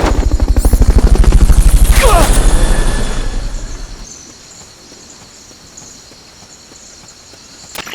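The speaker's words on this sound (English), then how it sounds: "Fulton recovery helicopter is complete." A Fulton recovery helicopter in Metal Gear Solid: Peace Walker sounds as a loud, close rotor chop with rapid thumping pulses for about four seconds, then fades away into quiet ambience.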